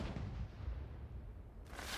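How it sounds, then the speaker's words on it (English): Fireworks and firecrackers going off at night in a Chinese town, a dense, continuous rumble of low booming bursts with a sharp crackling flurry near the end. "They love their fireworks."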